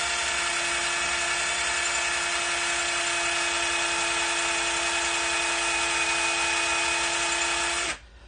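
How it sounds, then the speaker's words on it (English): A steady, high-pitched power drill drilling out a metal track pin on an Argo vehicle whines continuously at close range for about eight seconds, then cuts off abruptly near the end. "Keep on drilling, it's gonna snap."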